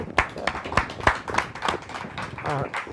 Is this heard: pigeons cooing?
no